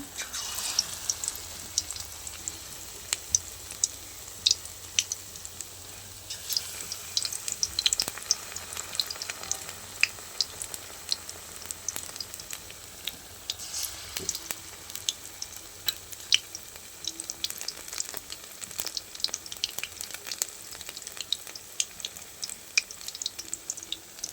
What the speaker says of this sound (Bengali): আমি কড়াইতে একটা করে দিয়ে দিব। একটা করে দিয়ে দেবো, আস্তে আস্তে জালে ভাজতে হবে